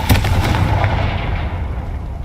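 The Confringo fire spell detonates in Hogwarts Legacy as a loud, booming explosion that starts abruptly and trails off into a sustained rumbling roar.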